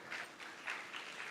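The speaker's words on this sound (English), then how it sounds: "That's why they're clapping the maximum for you" An audience at a religious conference session claps steadily, a soft but continuous patter of many hands.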